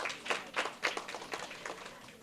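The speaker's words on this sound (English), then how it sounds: "Give all of them a round of applause, please." Brief, faint clapping from a small audience at a St. Lucia primary schools spelling bee results announcement, a short run of soft uneven claps that fades quickly.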